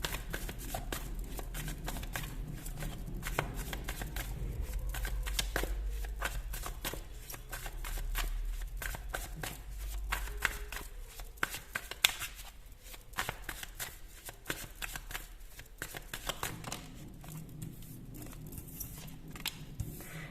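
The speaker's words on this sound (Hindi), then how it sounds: "यहाँ पर मैं ये वाले कार्ड निकालने वाली हूँ आज" Tarot cards are shuffled close up for a long stretch, a steady run of dense riffling slaps and soft flicks with brief pauses and a faint low hum underneath.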